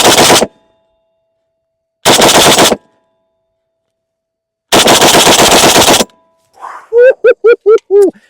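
A Century Arms BFT 556 AK rifle fires old lacquer-cased rounds outdoors in three loud, rapid bursts with silent gaps between them. A short series of echoing thumps follows.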